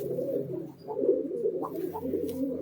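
Green Giribaz pigeons coo in low, throaty murmurs, a soft continuous cooing with a few rises, close by and alone with no talk over it.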